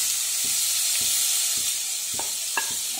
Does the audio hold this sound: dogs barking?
no